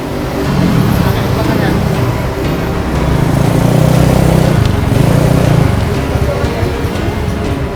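A motorcycle pulling away: a loud, close engine drone with a buzzing, rising tone that holds steady through the clip under street noise, with people talking over it.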